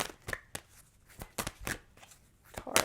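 A deck of tarot cards is shuffled by hand in several quick, crisp riffling bursts separated by short pauses, close and fairly clear, with no speech over it.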